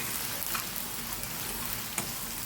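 Ginger garlic paste fries in a pan for a gongura prawn curry. The sizzle is fairly soft, even and continuous, with a few small pops and a faint clatter at the end.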